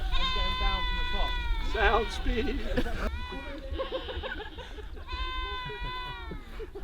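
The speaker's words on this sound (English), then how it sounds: "Quiet those goats down." Goats bleat loudly and repeatedly close by on an outdoor film set, long wavering cries overlapping one another, with people talking briefly in between.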